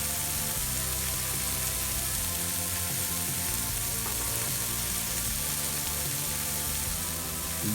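Burgers sizzle steadily on a Lodge Sportsman's cast iron grill, a dense, continuous crackling hiss that stays close and even throughout with no talking.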